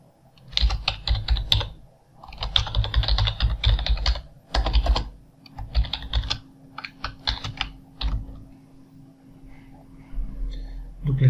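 Rapid bursts of typing on a computer keyboard come in clustered runs separated by short pauses, close and fairly loud.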